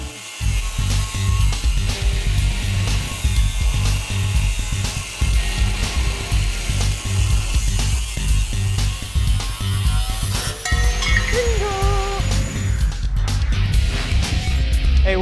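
Metal bumper for a 1969 Chevy van being ground in a garage, a steady loud whining grinder drone throughout with a higher pitched shift near the end, no talking.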